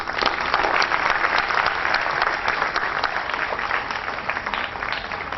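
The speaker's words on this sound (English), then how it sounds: "all of us should give them a big round of applause" Audience applause at a CBSE school annual function, a dense, steady clapping from a large crowd that holds at an even level throughout, with no talk over it.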